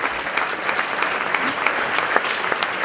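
A concert audience applauds steadily at a benefit concert as guests are welcomed onto the stage: dense, even clapping from many hands, fairly loud and unbroken for the whole stretch, with no voices over it.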